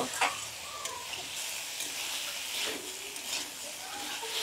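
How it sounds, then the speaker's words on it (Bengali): Quiet, steady sizzling and crackling of raw spice paste frying in a pan, with faint stirring scrapes throughout. "তাই আমি একটু ভালো করে কষিয়ে নেব"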